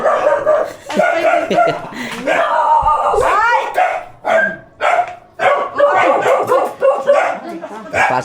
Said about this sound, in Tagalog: Pasok mo na yung aso.